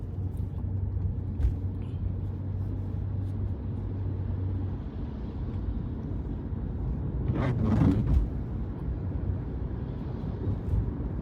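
Steady low engine and road rumble fills the inside of a moving car, with a brief louder whoosh or thump near the middle and no talking.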